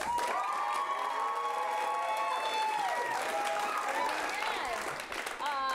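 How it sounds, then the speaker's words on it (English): A holiday showdown audience cheers and applauds loudly for a favourite movie, a dense continuous roar of clapping and whooping with children's shrieks, close and sustained before easing slightly near the end. "you're going to cheer the loudest for the movie you want to continue on"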